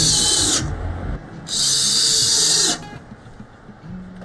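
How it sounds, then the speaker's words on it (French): A power screwdriver drives screws into metal trim on a flat-roof shelter, heard as two loud, high-pitched whirring bursts: a short one, then a longer one after a brief pause. "je vais en visser une au raccord des deux"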